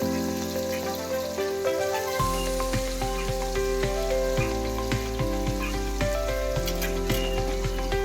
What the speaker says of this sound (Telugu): వేగిన దాంట్లో చికెన్ వేసుకోవాలా